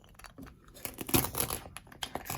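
A Melissa & Doug toy pizza is cut into slices, giving a short run of scratchy, tearing scrapes that swell in the middle and then taper off in a quiet room with no talking.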